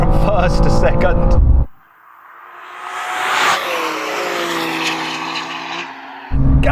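A BMW M2 CS launches hard with loud engine roar and wheelspin, revs climbing through first gear before a gearshift into second, the note fading slightly as it pulls away.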